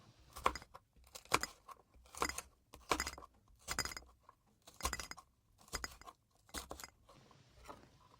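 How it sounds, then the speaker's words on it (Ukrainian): Bell pepper being sliced into strips with a knife on a board, eight crisp, evenly spaced crunchy cuts about one per second, close and clear with no voices. "Болгарський перчик нарізаємо соломкою."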